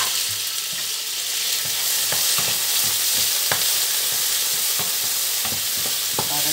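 Tomatoes hit hot oil already frying with garlic and onion, giving a loud, steady sizzle and crackle with occasional stirring scrapes, close up and continuous with no talk.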